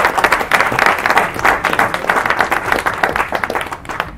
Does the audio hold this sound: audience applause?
yes